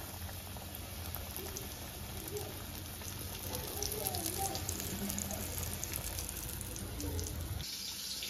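Floured chicken pieces fry in hot oil for homemade KFC-style chicken, a soft continuous bubbling sizzle with light popping, fairly quiet, cutting down abruptly near the end.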